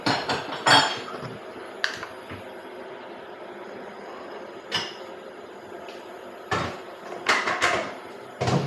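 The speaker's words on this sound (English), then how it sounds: "Heat on my pan now. Get some oil." A metal pan is set and shifted on a home stove with clanks and scrapes, then oil goes in amid scattered clinks and knocks, several sharp impacts spaced across the clip over a low steady background hum, no talking.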